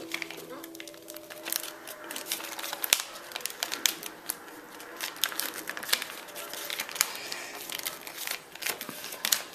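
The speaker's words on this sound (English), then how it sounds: "It's like folding with construction paper." Stiff construction-like paper being creased and folded into an origami peace crane, with close, irregular crinkles, snaps and rustles running steadily throughout, fairly quiet.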